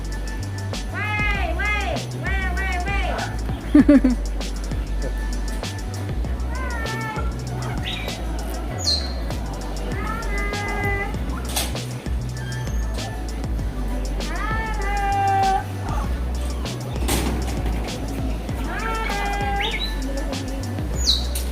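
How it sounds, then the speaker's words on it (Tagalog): Parrots in an aviary at Kowloon Park call with repeated sharp squawks and chirps amid other birds, while people talk nearby throughout. "ito parrot ata yan, oh. Parrot."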